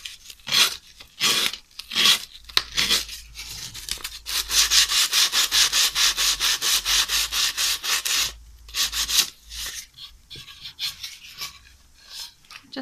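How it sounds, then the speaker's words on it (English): Sandpaper rubs along the edge of a decoupaged plate to take off excess rice paper, first in a few separate scrapes and then in a long, rapid run of close, rhythmic rasping strokes, with no talking. "you just lift up your plate and carefully just sand it away."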